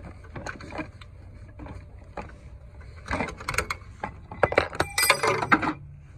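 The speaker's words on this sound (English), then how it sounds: "I just dropped my tool inside the truck, inside the engine bay" A tool falls into the engine bay of a Dodge Ram truck with a 6.7L Cummins, giving scattered metallic clinks and clatters, then a louder burst of rattling near the end.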